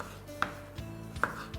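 Tomatoes roughly cut for peanut chutney give a few spaced knife chops on a board, about four quiet, close thuds in a steady rhythm.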